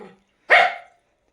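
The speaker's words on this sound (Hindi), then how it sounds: "अब भौंक रहा है मेरे पे।" A dog barks once, a single loud close bark after a brief faint sound, then silence.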